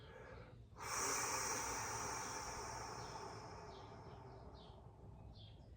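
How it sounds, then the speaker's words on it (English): Someone exhales slowly and steadily in a long soft breath that begins abruptly and gradually fades over several seconds, close and fairly quiet, with no speech. "Let's let it all breathe out again."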